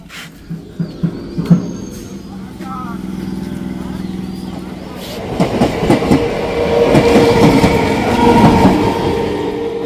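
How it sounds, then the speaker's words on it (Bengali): A train pulls into a station and rolls past, its wheels beating a rhythmic clickety-clack that grows louder and denser in the second half, with people talking nearby at the start. "এই যে বন্ধুরা ট্রেন ঢুকে গেছে"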